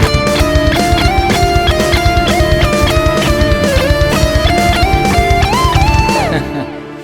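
A bright synthetic MIDI backing-track melody plays over a rhythmic backing, notes stepping up and down with a slightly off, sour-sounding line from a wrong F natural before fading out.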